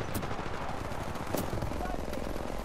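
Gunfire in the shooter game Titanfall 2 comes as quick bursts of shots over steady background noise, faint and somewhat distant, with a few sharper reports standing out.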